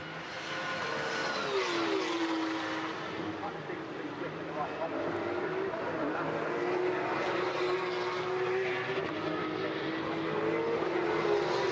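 Porsche Carrera Cup race cars lapping the Thruxton circuit, engine tones rising and falling in a steady drone from mid-distance beneath continuous commentary.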